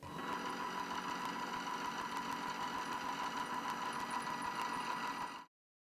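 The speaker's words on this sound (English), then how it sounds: "I'm only going to show you this winder go through this process once because it takes about a minute" A CNC guitar pickup winder runs at high RPM, a steady close mechanical whir with a constant tone and fine rapid ticking that holds evenly before cutting off abruptly near the end.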